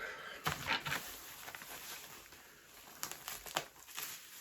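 A plastic packaging bag crinkles and rustles faintly up close in a few short bunches of crackling, with quiet gaps between, during the unboxing of a lost parcel.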